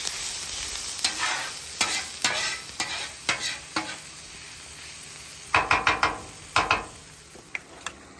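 Food sizzles on the hot middle of a griddle while a spatula scrapes and taps in irregular bursts, a steady frying hiss underneath.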